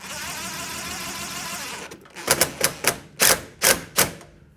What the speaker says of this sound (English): The secret here is to hold the smooth part of band to the surface, all right, and then drive the gear clamp on.